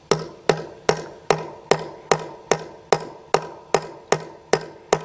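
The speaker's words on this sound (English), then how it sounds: "use your hammer," A hammer taps a metal anchor, topped with a nut, into a bolt hole drilled for a pool slide, about a dozen evenly spaced sharp metallic strikes ringing close and loud with no talk.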